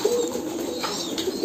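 Close pigeon cooing at a pigeon farm during the birds' bath time, a low throaty coo repeating over a constant airy hiss.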